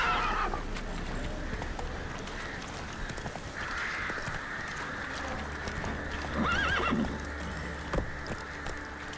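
Geralt's horse Roach from Witcher 3 galloping with a steady clip-clop of hooves, then a clear whinny partway through, over a continuous outdoor game ambience.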